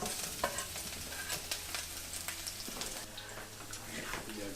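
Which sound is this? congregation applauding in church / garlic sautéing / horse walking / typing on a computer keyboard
garlic sautéing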